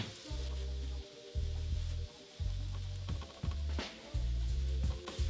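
Hash browns frying in butter in a pan make a steady sizzle that comes in bursts, cut off and resumed several times as the pan is moved.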